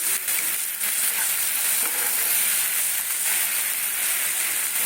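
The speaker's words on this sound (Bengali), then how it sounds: "ভালো করে আমি কষাবো ভালো করে কষিয়ে তারপরে মাশরুমটা করে দেবো" Spice paste for a button mushroom curry fries in a pan with a little water, giving a dense, loud, unbroken sizzle and bubbling hiss with faint stirring scrapes throughout.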